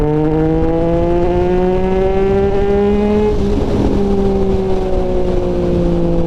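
A 2024 Triumph Street Triple 765 RS motorcycle engine pulls loudly under throttle, its pitch rising steadily, dipping briefly with a shift midway, then climbing again, heard close up with no talk.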